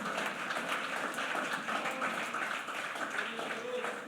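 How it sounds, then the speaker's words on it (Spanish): Steady applause from a large church congregation fills the space, a dense wash of clapping that holds evenly throughout without pause. "¿Será que le puede aplaudir fuerte a Él? Apláudalo, hermano, con gozo."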